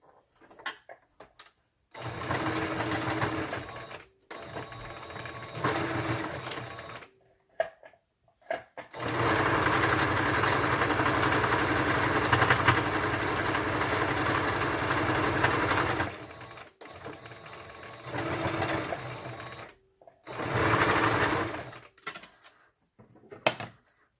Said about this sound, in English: now I'm going to stitch the other side